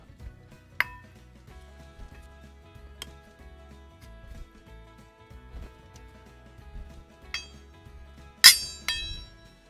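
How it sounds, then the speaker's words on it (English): Chicken broth being stirred into a dumpling mixture in a bowl, with a few scattered clinks of a utensil against the dish, a louder cluster of clatter near the end, and quiet stirring between. "We're gonna just add a little bit at a time. And we're gonna mix that all up."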